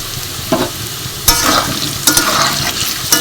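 Salted potato pieces fry in hot oil in a pan, giving a loud, steady sizzle broken by about four scraping stirs spaced roughly a second apart.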